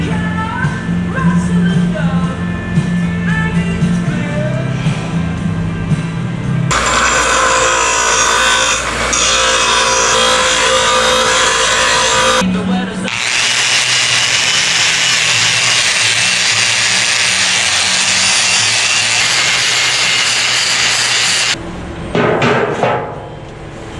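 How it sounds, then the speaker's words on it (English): Steel angle being cut with a power tool late at night in a workshop, a loud continuous harsh grinding whine in two long passes with brief pauses and clatter between them. "Just gonna cut 2 pieces of this angle and weld it up."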